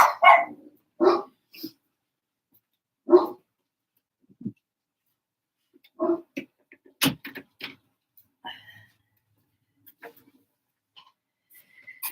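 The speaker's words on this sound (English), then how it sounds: "Sorry about the dogs, guys." Dogs bark in scattered bursts, a few sharp single and double barks with pauses between, fairly close, with no talking.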